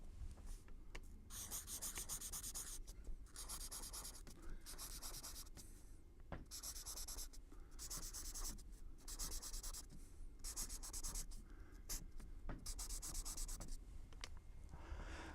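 Pencil or pen writing out the C scale on paper, short rhythmic scratchy strokes in quick bursts separated by brief pauses, close and quiet.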